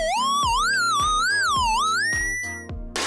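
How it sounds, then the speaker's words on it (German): Electronic aiming tone heard through headphones by a blind air rifle shooter: a loud, continuous beeping pitch that sweeps up and down in waves, then holds steady high, with brief clicks and a noisy burst near the end. "Wenn das Piepen am höchsten ist, muss sie abdrücken, um mit ihrem Luftgewehr genau in die Mitte zu treffen."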